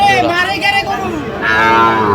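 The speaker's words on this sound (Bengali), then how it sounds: "দেখছিলাম এখানে বেশ সুন্দর গরুগুলো সংগ্রহ করছে মোহন ভাই" Sahiwal cattle at a market in Chandpur give a loud, close, drawn-out moo, with a second long bellow following right after and faint background voices beneath.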